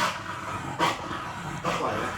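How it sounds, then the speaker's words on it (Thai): A dog gives two short barks, spaced about a second apart, fairly close and loud over a steady background hum, with no clear talking between them. "ปกติเขาจะไม่เคยเจอหมาเห่าด้วยนี้ค่ะ"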